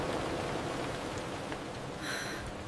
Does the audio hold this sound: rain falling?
yes